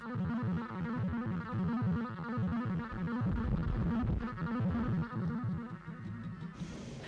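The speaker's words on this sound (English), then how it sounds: "a brief synth piece with a fast arpeggio fed through various distortion pedals" Brief electronic synth piece: a rapid arpeggio pushed through several distortion pedals, gritty and buzzing with a pulsing repeated pattern, loud and continuous, easing slightly near the end.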